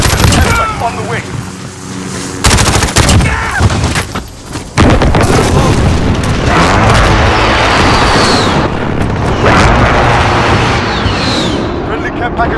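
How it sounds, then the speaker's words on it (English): In Call of Duty: Modern Warfare, a missile strike lands with loud booming explosions and rumbling blasts, dense and continuous, with game radio voices mixed in. "Friendly missile on the way."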